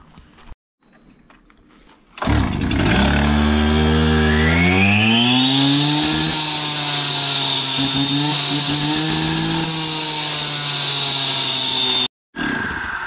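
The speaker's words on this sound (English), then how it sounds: "That's a 20-year-old saw that hasn't been running 2 years. It started that amount of pulls." A 20-year-old Stihl chainsaw that had sat unused for two years fires up after a few pulls, then revs loudly and holds a steady high-pitched engine whine close up, cutting off briefly near the end.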